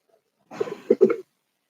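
Coughing indoors: a short burst of two or three harsh, close coughs lasting under a second, loud against an otherwise quiet room with no talking.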